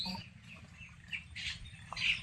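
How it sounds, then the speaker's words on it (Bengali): A flock of native domestic ducks on a small homestead farm quacks and chatters faintly as it moves off, with a few sharper calls rising over a low background murmur. "দেখতে পাচ্ছেন হাঁসের দল কিন্তু চলে যাচ্ছে এখন।"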